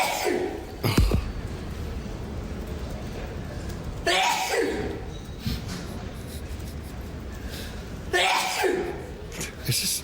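A man at an airport sneezes repeatedly about five meters away, each loud explosive burst followed by sniffing and breathy noise, three main sneezes spaced roughly four seconds apart against a quiet hall.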